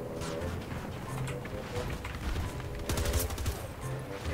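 Battlefield 2042 firefight with bursts of automatic weapon fire and scattered gunshots over a low rumbling battle backdrop, a denser rattling volley toward the end, moderately loud and without speech.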